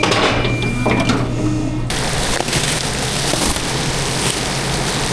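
A dense, even wash of heavy rainfall fills the whole clip. It is louder after an abrupt jump partway through, with a low hum in the background and no speech.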